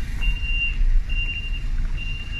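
A garbage truck reverses, sounding three evenly spaced electronic beeps over a low idling engine rumble nearby.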